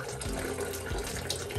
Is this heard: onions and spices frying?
no